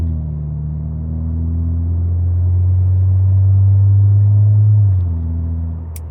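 Car engine idling loudly in the morning, a deep close rumble that swells and fades over several seconds.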